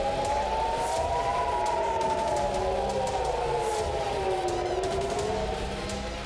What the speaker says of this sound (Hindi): हेलीकॉप्टर के करीब से गुजरने के बाद तेल अवीव में air red alert siren activate हुए।